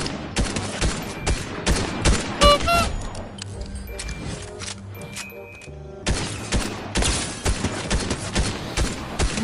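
Bursts of assault rifle fire in the video game Fortnite, rapid clustered shots in several volleys with brief gaps, loud and close, mixed with other game sounds.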